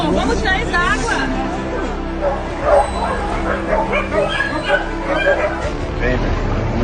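A small dog yips and whimpers in short high bursts during a flood rescue in Rio Grande do Sul, close by, with people chattering around it.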